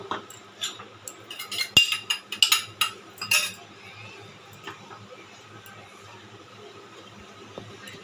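A metal spoon knocks and scrapes in a pan of milk thickened with powdered milk, a cluster of bright clinks in the first few seconds, then quieter occasional taps against low background noise.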